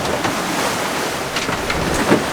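Ocean waves in a cross swell wash around a sailing boat at sea, a continuous loud rushing surge with splashes and wind buffeting the microphone, no voices.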